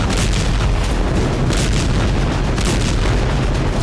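Bombing explosions in Gaza near a hospital sheltering displaced people, heard as a dense, continuous loud rumble of booming blasts with no clear breaks between them.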